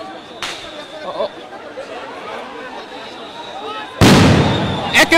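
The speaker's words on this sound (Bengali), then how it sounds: "একের পর এক সাউন্ড গ্রেনেড নিক্ষেপ হচ্ছে এই মুহূর্তে ধানমন্ডি 32-এ" Sound grenades thrown by police during a street protest at Dhanmondi 32, heard as a sudden, loud, sharp blast followed by another burst moments later, after a stretch of crowd chatter and distant voices.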